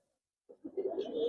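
A pair of Giribaz coloring pigeons in an Old Dhaka loft give soft, close coos. The coos start after a moment of silence and roll on in a throaty, repeated murmur, with no voices.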